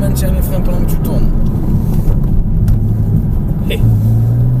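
Porsche Cayman S engine droning steadily on a racetrack, low and continuous with slight rises under acceleration, while an instructor talks throughout.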